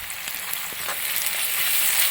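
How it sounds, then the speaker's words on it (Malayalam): Salted vegetables sizzle steadily in a hot pan while being stirred for a Kerala-style vegetable stew, an even frying hiss with faint scraping taps, close up and no talking. "ഇനി നന്നായിട്ട് അങ്ങ് ഇളക്കി കൊടുക്കുക."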